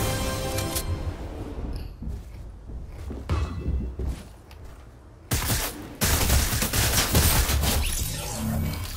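Warzone and Fortnite game gunfire: dense bursts of shots and explosive booms crackle through the scene, with a loud, sustained fusillade erupting in the second half and continuing to the end.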